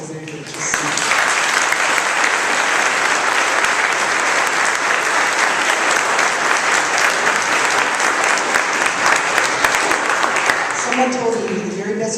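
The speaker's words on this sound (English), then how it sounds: "let's give them a round of applause because they're here to see." Audience at a school fall band concert applauds a student band, a loud sustained wash of many hands clapping for about eleven seconds, with a voice speaking briefly at the start and again as it fades.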